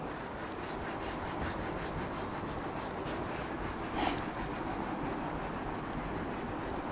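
Chalk or writing being rubbed off a classroom board during a physics lesson makes a steady, soft, continuous scrubbing sound, heard alone throughout.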